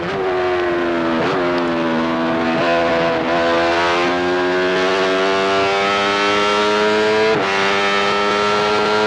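Benelli racing motorcycle held at full throttle on the Isle of Man TT course in 1993, a loud, continuous high-pitched engine howl with steady harmonics, briefly dipping at gear changes, close and alone.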